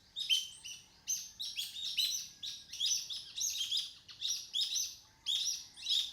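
Birds in a forest near the ocean in the Philippines chirp in repeated bright bursts of rapid trills, steady and fairly close, with no other sounds.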